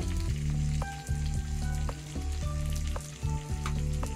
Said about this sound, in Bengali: কাঁচা সর্ষের তেল দিলাম।